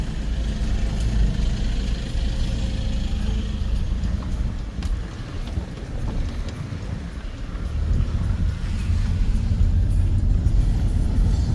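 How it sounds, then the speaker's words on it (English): Road traffic passes through an active highway construction site between Jomvu and Mariakani, a steady loud rumble of cars and trucks with wind buffeting the microphone, swelling again toward the end. "Still traffic."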